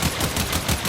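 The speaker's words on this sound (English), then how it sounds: "Destroy it with weapon fire." Rapid automatic weapon fire in the Warframe video game, a steady stream of closely spaced shots rattling continuously at close range with no voices.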